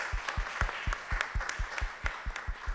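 Rhythmic group clapping at a Brazilian panel conversation, steady evenly spaced claps about every quarter second, moderately loud and close, like an audience clapping in unison.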